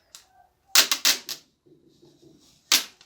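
Stickers peeled off a car battery give several sharp, loud ripping tears in short bursts, a cluster of three near the start and one more near the end, separated by quiet handling noise.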